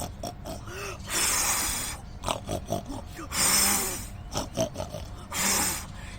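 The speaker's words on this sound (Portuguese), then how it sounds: "o porco mau ficou do lado de fora, de peito estufado, roncando e bufando" A pig snorts and grunts close up in repeated bursts, with loud breathy snorts separated by shorter grunting noises.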